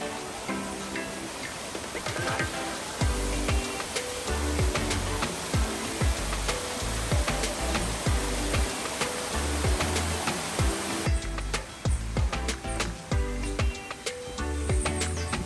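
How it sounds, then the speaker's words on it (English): Steady, broadband rush of a waterfall in El Yunque rainforest, a continuous loud roar of falling water with brief clattering bursts, heard alone without talk. "and voila, you've made it to another waterfall"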